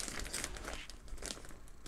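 A full plastic bag holding a children's toy fishing game crinkles and rustles close by, with a dense burst of crackling that eases off and then returns.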